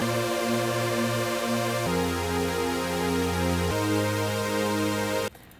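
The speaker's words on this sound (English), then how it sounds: "5 layers in Serum is going to sound like this when we make it a little more detuned" Detuned five-layer supersaw synth patch in Serum plays a sustained chord progression of three long, loud, bright held chords that stop abruptly near the end, with no voices.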